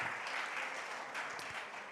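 A congregation at a church gathering applauds warmly for visiting brethren; steady, fairly faint clapping from a roomful of people fills the short moment without pause.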